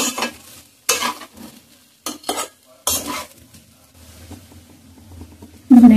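Soft, thin flattened rice (chire) is stirred gently in a pan, with intermittent scraping and clinking bursts of a utensil separated by quiet gaps and a faint sizzle.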